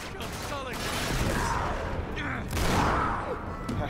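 Gunfire in the action game Uncharted 3: Drake's Deception, bursts of shots and booming impacts layered over a dense, busy game soundtrack.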